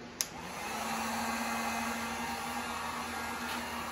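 Heat gun blowing steadily on a Lexan window to soften and bend it, a continuous airy whoosh with a faint hum, starting with a small click and holding even.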